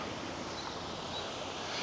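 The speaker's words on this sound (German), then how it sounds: "Schaut euch mal diesen geilen Wasserfall an." A waterfall in a gorge in Upper Bavaria roars as a steady, broad rush of falling water, continuous and fairly distant, with no voices over it.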